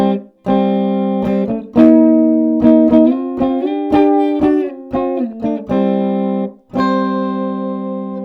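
An electric ukulele played through a bass amplifier plays clean, undistorted notes and short chords with sustained ringing tones, a few brief pauses between phrases.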